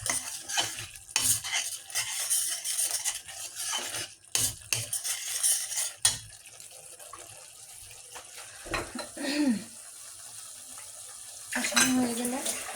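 Fish curry masala with red chili powder and salt being stirred and fried in a pan, with repeated scraping strokes and clatters over an intermittent sizzle and brief pauses.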